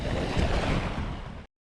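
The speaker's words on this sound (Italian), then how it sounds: "c'è davvero tanto vento in scogliera a questo giro" Strong wind buffeting the microphone on a rocky seaside breakwater, a loud steady roar of gusts that cuts off abruptly at the end, with no voices.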